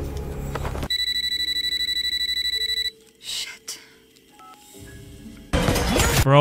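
A cordless phone in the Mortal Kombat 1 video game, with Ghostface, gives a run of steady electronic keypad tones, then a short stretch of quieter clicks and handling sounds, ending in a loud noisy burst.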